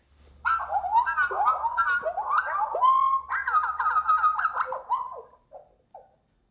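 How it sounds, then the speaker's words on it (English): Goldfinch song slowed down and dropped in pitch, becoming a continuous stream of sliding, warbling whistles and chirps that runs for about five seconds, then breaks into a few short trailing notes before ending. "slow down the sound of the goldfinch and to bring the pitch down"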